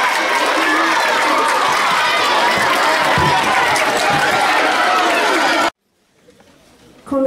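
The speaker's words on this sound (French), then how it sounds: "Un tonnerre d'applaudissements pour Emmanuela" Loud school audience applauding and cheering for a slam poet at a collège event, a dense continuous roar of clapping and shouts for about five and a half seconds that cuts off abruptly into quiet.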